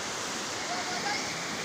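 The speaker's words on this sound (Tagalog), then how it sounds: "grabe jud ang baha." Floodwater rushing through a village in Cabulihan, a broad, steady roar of churning water heard alone at a distance without pause.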